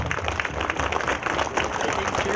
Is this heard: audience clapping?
yes